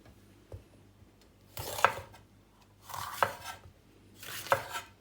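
A knife chops vegetables such as eggplant and onion into cubes on a board, in three separate bursts of quick, close, sharp strikes with quiet gaps between them.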